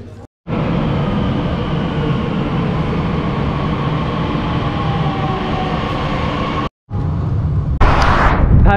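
Loud, continuous rumble of a metro train running on rails in Shiraz, Iran, with a brief drop-out and a screeching, rattling surge near the end.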